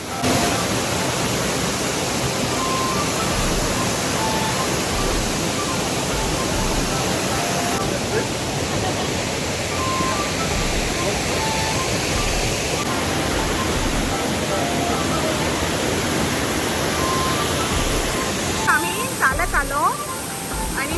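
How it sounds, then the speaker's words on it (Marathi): A waterfall roars as a loud, continuous rush of water that fills the whole stretch, with faint sounds near the end. "हे बघा माझ्या पाठीमागे धबधबा"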